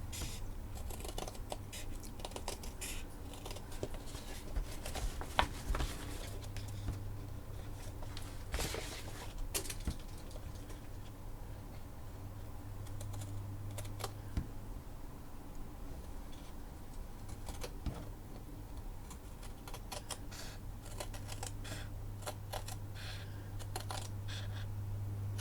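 Scissors cutting around the edge of a handmade stitched blank journal, faint close snips and small taps scattered through a quiet room.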